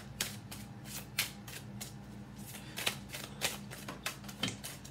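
Tarot cards being shuffled by hand in quick, crisp riffles and flicks, a steady run of sharp papery bursts close by with brief pauses between them and no talking.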